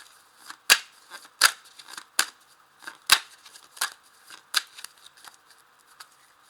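Persian tarot cards handled and shuffled close by: a series of sharp crisp snaps and riffles at irregular intervals, with soft rustling between them.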